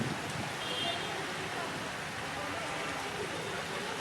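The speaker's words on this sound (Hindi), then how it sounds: "पिछले आधे घंटे से बरसात का दौर जारी है।" Heavy monsoon rain pours onto flooded city streets in Jaipur, a dense, steady hiss of downpour with faint traffic beneath it, unbroken for several seconds.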